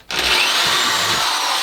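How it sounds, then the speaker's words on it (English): A power drill bores holes into wood while a homemade brooder is being built, a loud, steady close-up whine with a grinding bite, starting abruptly and running without pause. "I'm just going to drill 2 holes right next to each other"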